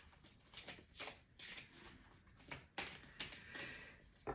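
Tarot cards shuffled and cut by hand, a rapid series of crisp riffling bursts and soft slaps, close and fairly quiet, with no talking.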